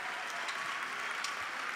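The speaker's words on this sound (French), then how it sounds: "on va les applaudir bien fort" An audience at a New Year's greetings ceremony applauds a music and drama conservatoire orchestra with a brief, faint, steady patter of clapping from a distance.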